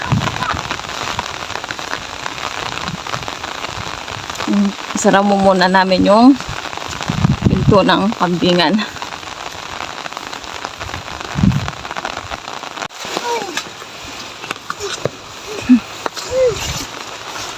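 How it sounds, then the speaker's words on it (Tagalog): Steady rain falls outdoors around a rural yard with a goat pen, a constant close patter beneath people talking and calling out. "ngayon alas stress na umuulan pa rin may malamig hmm, hangin"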